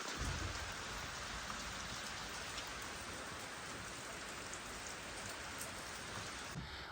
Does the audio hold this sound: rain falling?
yes